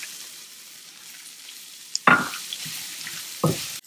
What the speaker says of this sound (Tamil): இப்போ நம்ம இதில் தேங்காவை போட்டு ஃப்ரை பண்ணலாம், வதக்கலாம், நல்லா வதக்கலாம்.